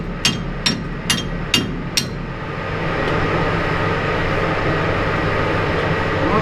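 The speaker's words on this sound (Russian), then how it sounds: "Какой-то молоток взять или что, ее забить?" A hammer strikes five quick, sharp metallic blows while knocking a lever into its slot at a thermal power plant during a night shift, followed by a steady, loud drone of plant machinery.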